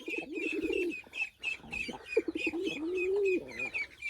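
A mother hen sitting beside a dove, with low cooing and soft clucking calls repeated through the clip, near and fairly clear, along with some higher chirping.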